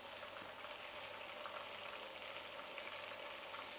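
Basa fillets deep-frying in hot oil give a steady, even bubbling hiss with a faint low hum beneath, continuous and close throughout.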